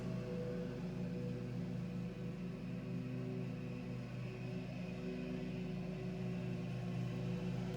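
A lawnmower drones steadily in the background, a constant low engine hum that stays even and moderately faint, with no voices over it.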